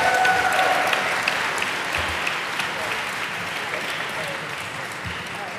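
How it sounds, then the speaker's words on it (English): Audience at a mayor's press event and bill signing giving a sustained round of applause, dense clapping that holds steady and slowly softens, with some voices mixed in. "One more big round of applause for Antonio and Corey."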